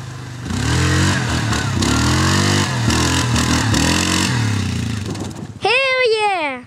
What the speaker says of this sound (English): This is Fred doing a wheelie.